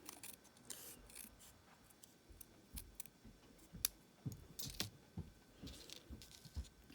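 Scissors snip through a Calypso Coral paper card banner, cutting it in half with quiet irregular crisp snips and rustling paper, close and faint.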